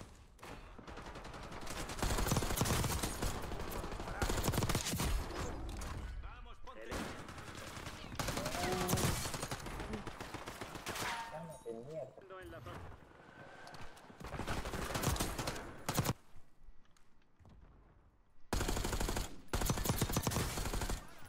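Rapid bursts of automatic weapon fire in the Call of Duty games Warzone and Black Ops 6, loud and repeated in clusters with short pauses between volleys, the gun spraying erratically because it is not fine-tuned.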